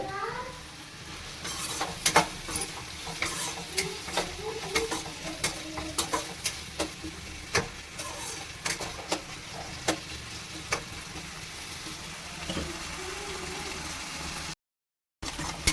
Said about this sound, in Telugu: ఏం వండుతున్నావు చిన్న చికెన్ ఫ్రై